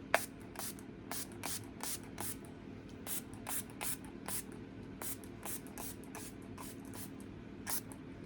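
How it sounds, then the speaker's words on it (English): A fursuit spray bottle spritzes in repeated short bursts, about a dozen crisp hissing pumps in a loose rhythm, close and clear over a quiet room hum with no talking. "I take the fursuit spray, make sure it's facing the right way, and I just go all around and spritz it"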